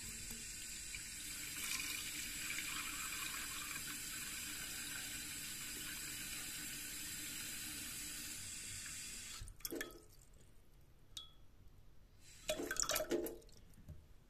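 Water pours steadily into an empty vase, a continuous rushing flow that stops short, followed by a few brief splashes and drips near the end.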